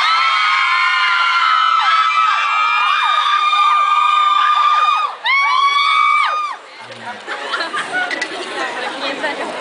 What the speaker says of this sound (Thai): ขอเสียงกรี๊ดที่พิเศษหน่อยครับผม